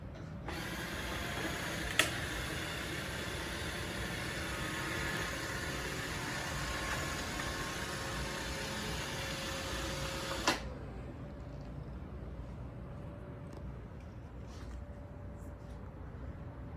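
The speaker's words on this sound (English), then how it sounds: "Roomba wanted to video bomb me" Roomba robot vacuum whirring in a room with a ceiling fan, a steady mechanical drone with a faint clicking that cuts off abruptly about ten seconds in, leaving a quieter room hum with light ticks.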